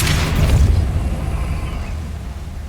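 A Depulso force spell cast in the video game Hogwarts Legacy lands as a loud, booming burst with a deep low thump, then fades into a lingering rumble.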